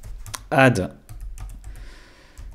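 Clicky keyboard keystrokes tap out in short bursts while someone types into a grid-style productivity tool, with a brief spoken word breaking in partway through; the typing sits close and moderately loud.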